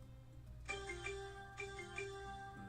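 A phone's notification tone for incoming Discord messages chimes repeatedly, a sustained melodic electronic alert heard fairly faintly over a low background hum, pulsing in several bursts before stopping.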